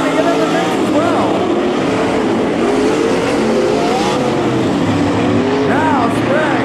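Late model stock cars race in a pack at Thunderbird Raceway, their engines roaring loud and continuous with rising and falling pitch as they jockey for position, an announcer calling the action over the din.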